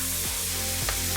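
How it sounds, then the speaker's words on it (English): Marinated tandoori-spiced fish fillet sizzles briefly in a hot pan, a short steady frying hiss, close and fairly quiet. "I'm just going to flip my fish."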